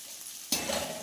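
Tempering spices dropped into hot oil for a leafy-greens dal, a soft hiss that jumps into a louder sizzle partway through, brief and close.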